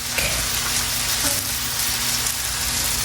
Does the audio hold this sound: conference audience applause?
no